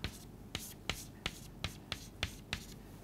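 Chalk or marker strokes on a board during a mathematics lecture, sharp regular taps and scrapes about every third of a second, close and fairly quiet.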